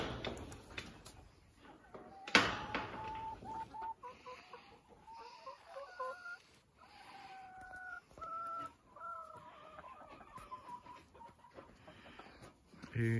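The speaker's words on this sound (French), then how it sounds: "J'ai été capable de me chercher 30 autres poulets." Chickens cluck and squawk nearby at a henhouse, with one sharp loud burst early on and drawn-out bird calls afterward over faint background noise.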